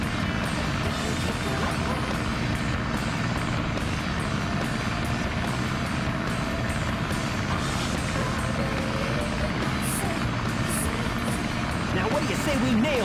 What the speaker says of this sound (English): This plane's cool!